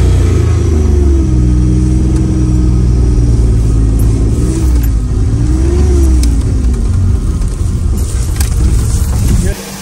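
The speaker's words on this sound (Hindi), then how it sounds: "गाड़ी कुछ मसला कर रही है।" A Suzuki Carry van's engine labours on a winter mountain road in Pakistan, a steady loud motor drone with rising and falling revs throughout, while people talk over it inside the vehicle.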